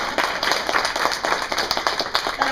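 Audience applause at a state association convention, close clapping from a modest crowd with a steady rhythm of individual hand claps throughout the short burst.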